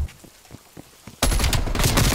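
Gunfire from the player's gun in Call of Duty: Cold War multiplayer, a few spaced single shots and then a loud rapid burst of close shots packed together.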